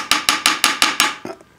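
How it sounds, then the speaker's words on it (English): A brass hammer strikes a stubborn screw on an old, rusty sewing machine: six sharp, evenly spaced metallic taps close up, followed by a softer rattling knock as it trails off. "Take the brass hammer."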